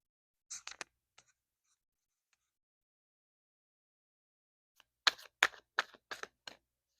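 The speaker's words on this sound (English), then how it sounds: "I'm gonna pull this card on top and then I'm gonna shuffle for more." Two quick bursts of riffling card flicks, a short one early, then a longer rapid series after a pause, crisp and close.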